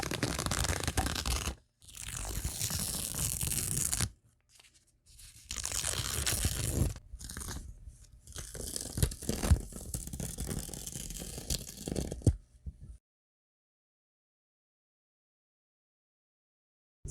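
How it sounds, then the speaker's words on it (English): Foundation paper torn away from the seams of a sewn coffin-shaped quilt top, a run of dry crunching, ripping bursts close by with short pauses between pulls, ending in silence. "Now there is nothing left to do except remove all of the paper."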